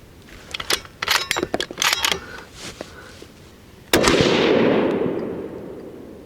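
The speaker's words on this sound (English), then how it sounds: "Now we just fired 2 rounds to get it sighted in." A Bergara Premier .308 Winchester rifle fires one loud, close shot that booms and rolls off into a fading outdoor echo, preceded by a run of sharp clicks and rattles from handling the gun.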